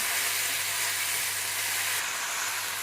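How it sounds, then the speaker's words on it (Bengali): Vegetables stir frying in a pan with black pepper and salt, a steady close broadband sizzle and hiss that holds evenly throughout with no talking. "তো জাস্ট আমরা স্টির ফ্রাই করতেছি।"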